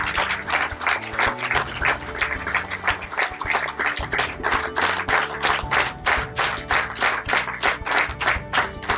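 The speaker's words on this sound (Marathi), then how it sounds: "आपण टाळ्यांचा जोरात कडकडाट करूया" Audience at a Marathi book launch claps loudly and continuously throughout, dense sustained applause with no voices over it.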